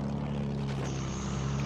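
A fighter plane in the video game Battlefield 1 drones with a steady, engine-like hum and airy rush that holds evenly throughout, with no speech.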